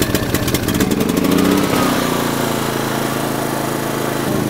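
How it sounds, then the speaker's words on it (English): A Honda 2800 watt inverter generator starts and settles into a steady running drone with eco mode off, rising briefly in pitch before holding an even, continuous hum, close and loud. "Turn the generator on, turn the eco mode off."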